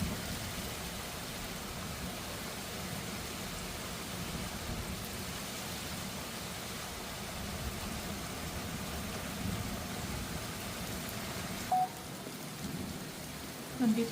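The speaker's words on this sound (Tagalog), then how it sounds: "Dumating talaga yung ulan dito." Continuous soft rain hiss heard from indoors in a bedroom, fairly distant and even, with a couple of brief faint knocks near the end.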